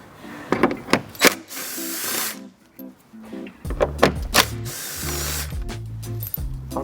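A ratchet loosens T30 Torx bolts on the grille of an Audi A3/S3 8Y, with rapid clicking pawl bursts in several runs separated by short pauses, close and clear.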